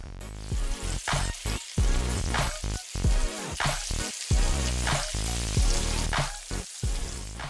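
Breaded fish coated in flour, egg and crumbs fries in hot oil, giving a steady dense sizzle with crackling pops and bursts across the whole stretch, close and fairly loud, with no voices.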